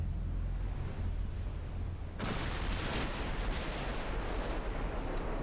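A broad roar of naval shellfire and impacts from a warship battle in Ultimate Admiral Dreadnought, a dull rumbling wash that suddenly swells into a loud, sustained burst of distant-sounding booms and splashes.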